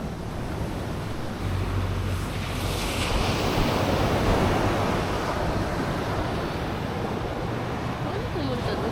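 Broad, steady roar of ocean surf on the Zambales coast with wind buffeting the microphone, constant throughout with no clear individual wave breaks.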